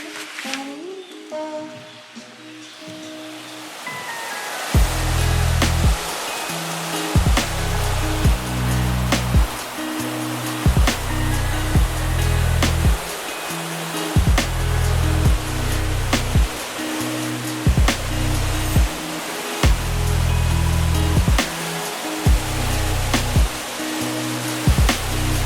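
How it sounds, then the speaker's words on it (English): Steady roar of a waterfall near a canoe portage, a constant broadband rush heard close by, with loud repeated low thumps and knocks pulsing through much of it. "You can hear the waterfall."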